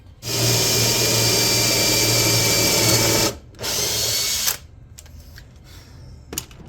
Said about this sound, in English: now we can drill these holes in here with the original bit through the dowel centering jig